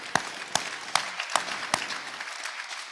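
A small group of people clap at a Rotary Club meeting in a few scattered, distinct claps over a soft background that quickly fades.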